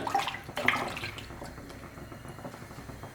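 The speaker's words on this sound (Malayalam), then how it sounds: "ഇതിലേക്ക് ഞാൻ പുളിയുടെ വെള്ളമാണ് ഒഴിച്ചു കൊടുക്കുന്നത്" Tamarind water poured into a pot of Kerala sambar cooking on a gas stove, giving a short burst of splashing liquid that quickly settles into soft trickling and faint drips.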